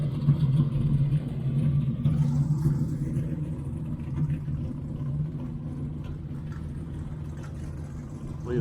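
A Chevrolet Camaro engine rumbles low and steady at close range, strongest in the first few seconds and easing slightly, with a continuous mechanical drone and no voices.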